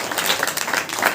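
A church congregation claps their hands together during a Hindi-language Saturday worship meeting, producing a brief, dense burst of overlapping claps close by.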